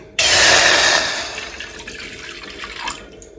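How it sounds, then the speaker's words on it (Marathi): Water poured from a glass tumbler into a cooking pot on a gas stove for a herbal decoction, a loud splashing gush that starts abruptly and trails off over a few seconds, heard alone without talk. "आपल्याला 1 ग्लास पाणी ह्याच्यात टाकून घ्यायचंय।"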